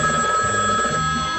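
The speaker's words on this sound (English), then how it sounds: "Celebrity lines ringing." A telephone rings on a radio show's call line, a steady bell tone that is loud and close for the whole moment, with no talk.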